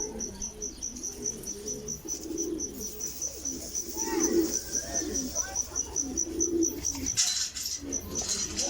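Pigeons coo in low, repeated soft phrases, fairly quiet and close, over a constant high cricket trill and faint bird calls.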